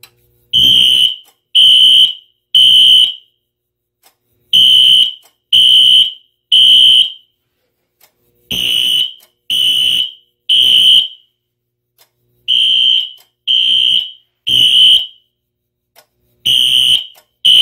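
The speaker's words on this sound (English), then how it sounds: "let's go ahead and test out the smoke detector" A fire alarm from a Fire-Lite MP-24 system, set off with smoke tester spray on a smoke detector, blares in loud, piercing bursts of three with short pauses between groups.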